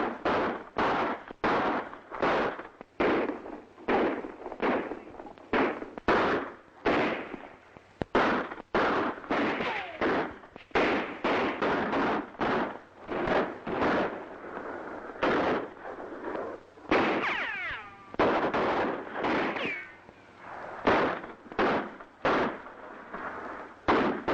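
Rapid volleys of gunfire from a 1943 western shootout, dozens of sharp loud shots and ricochets cracking in quick irregular bursts throughout, close and dominant with no talking.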